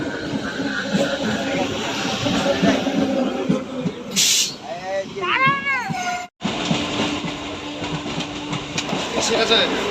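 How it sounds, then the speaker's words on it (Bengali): A train pulls into a station on an early-morning route toward Sealdah: a sharp burst of air hiss, then squealing brake tones over a steady rumble, with crowd chatter and talking throughout. "ট্রেন চলে এসছে বন্ধুরা"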